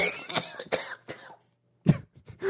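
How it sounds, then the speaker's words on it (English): A man coughs in several short, wet, throaty bursts with brief pauses between them, ending in a louder hack and a throat-clear, all close and with no talk. "you look so gross when you cough"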